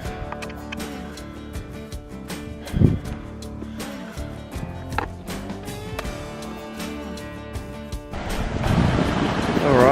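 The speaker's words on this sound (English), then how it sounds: "this is the first stream crossing" A stream flows at a trail crossing with a continuous rushing, splashing wash and wind buffeting the microphone. The water swells louder toward the end.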